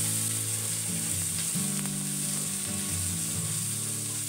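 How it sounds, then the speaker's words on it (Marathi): Chillies sizzle hard in hot oil in a pan for a pumpkin-leaf vegetable dish. The frying hiss is loud, close and unbroken, with faint stirring clatter and no voices. "जरी तिखट नसल्या मिरच्या तरी तेलामध्ये प्रथम फोडणीला टाकल्यानंतर त्या तिखट होतात."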